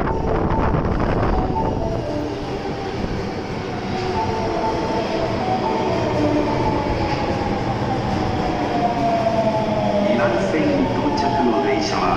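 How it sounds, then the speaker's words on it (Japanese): An Osaka Metro Tanimachi Line train bound for Dainichi rumbles into the station with rising wheel squeal and rattling, loud and close, while a Japanese platform announcement voice plays over it. "2番線に大日行きが到着します。"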